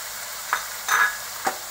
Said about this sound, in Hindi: फिर अच्छी तरह से फ्राई कर लीजिए, सब क्रंची रखिए।